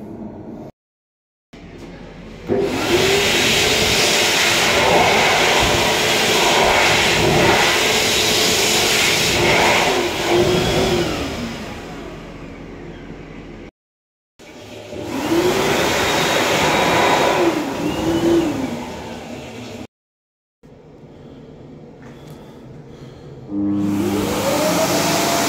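A powerful electric hand dryer in a UK restroom roars loudly in several separate bursts with short gaps of silence between them, a forceful airflow whine heard close.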